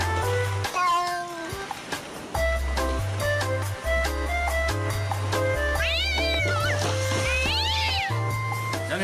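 A cat meows repeatedly over a looping musical backing track with a steady low beat, the meows rising and falling in pitch, clear and prominent throughout.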